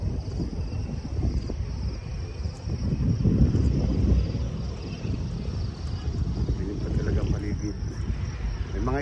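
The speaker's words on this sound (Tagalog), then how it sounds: "Lakas ng hangin." Strong wind blowing across a cold, high spot near Tagaytay in the early morning, a steady low rumble that buffets the microphone and swells in gusts, continuous throughout.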